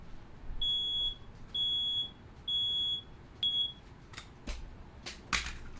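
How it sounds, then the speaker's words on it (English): A smoke alarm gives four clear, high electronic chirps at an even pace, fairly faint in a quiet room, followed by a few sharp clicks and knocks. "Good news is that wasn't the CO meter, that was the smoke alarm."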